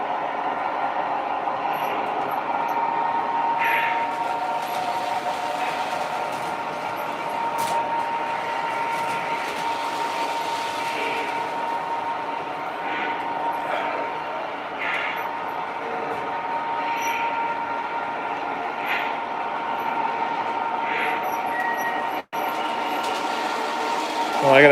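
A GP9 model train locomotive runs along a home layout track, giving a steady, moderately close rolling hum with faint clicks while someone talks over it.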